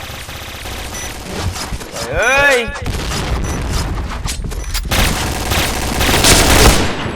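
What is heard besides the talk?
gunfire in a video game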